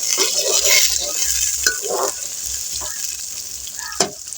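Two large onions sizzle and fry in hot ghee, a continuous crackling hiss with intermittent clinks and scrapes of a spoon stirring the pan, close and alone.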